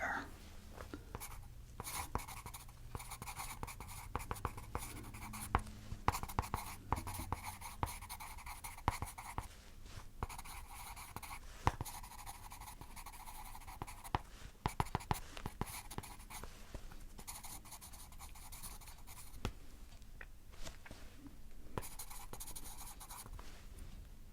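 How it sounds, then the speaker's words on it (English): Pencil scratching across paper in close, quiet strokes, with bursts of writing separated by brief pauses. "I'm just gonna quickly write in here."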